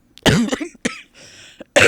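A few sharp, close coughs in quick succession, with a short raspy throat sound in between, and no talking.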